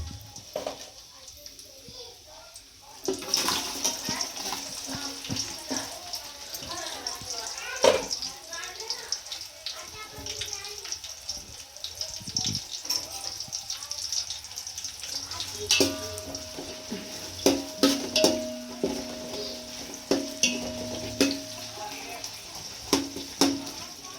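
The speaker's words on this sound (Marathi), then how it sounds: "4 कांदे परतून घ्यायचे चांगले लाल होईस्तोवर" Four onions frying in oil and homemade ghee with bay leaves for mutton biryani, a steady close sizzle with stirring clatter and occasional sharp clinks, while someone talks over it.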